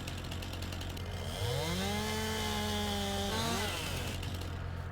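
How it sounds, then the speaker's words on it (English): A chainsaw in the video game Farming Simulator 19 revs up, holds a steady buzzing drone for about two seconds while cutting logs, then drops back to idle, loud and close. "Get our little trusty chainsaw here."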